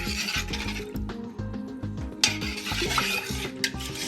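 A spoon scrapes and rubs steadily through split peas and turmeric in a pot, giving a repeated close-up grinding and stirring rhythm with no talking.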